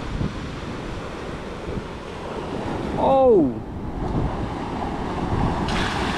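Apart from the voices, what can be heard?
sea waves on the beach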